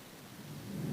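Heavy rain with a low rumble of thunder that grows louder toward the end, a steady dense roar with no voices.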